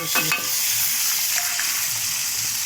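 Fried fish heads with salt, chilli powder, turmeric and green chillies are stirred in a pan under a loud, dense, steady sizzle, with a few scraping strokes near the start.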